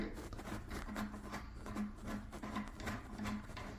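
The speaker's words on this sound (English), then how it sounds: "I had to rotate this anti-clockwise. So this screw is getting off." A toilet seat fixing screw being loosened anti-clockwise, giving a repeated soft rasping, rubbing grind in short rhythmic turns, close and fairly quiet.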